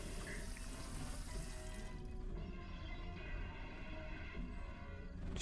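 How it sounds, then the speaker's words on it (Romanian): Water running steadily from a household tap into a sink, a continuous close hiss and splash that does not let up. "Nu se mai oprește apa."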